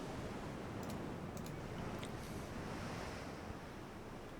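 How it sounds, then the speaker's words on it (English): Rough open sea in a naval warfare game set in the Brazilian campaign, a steady, dense roar of waves and wind that stays even and continuous throughout, with no voices. "Relatively rough sea."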